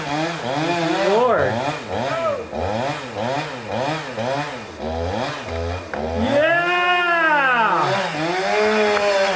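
Chainsaw running at an off-grid cabin while a tree is felled, loud and close with a repeating rise-and-fall pitch pattern as the bar cuts, and people whooping and shouting over it.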